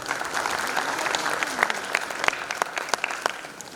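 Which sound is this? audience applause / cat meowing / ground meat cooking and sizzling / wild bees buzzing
audience applause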